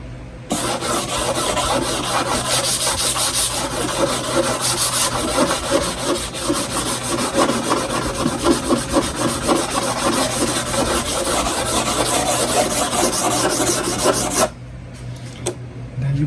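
Steady rasping abrasion of wood shelving under a power sander with 120-grit paper, loud and continuous for about fourteen seconds, with a rhythmic scratching texture before it stops abruptly.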